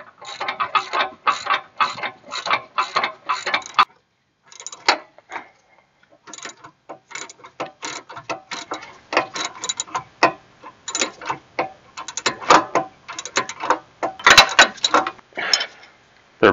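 A ratchet wrench cranks a 19 mm socket on a Chevy sway bar link, producing loud, close bursts of rapid clicking with brief pauses between strokes.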